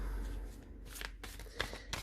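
Cards being shuffled by hand, with soft riffling and several crisp slaps as the deck is bridged and cut, close and fairly quiet.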